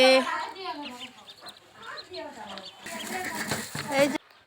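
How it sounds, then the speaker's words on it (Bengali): Small quail chirp and cluck in short, high calls nearby on a small farm, mixed with a person talking; a brief burst of rustling noise near the end. "এগুলো হচ্ছে কোয়েল পাখি"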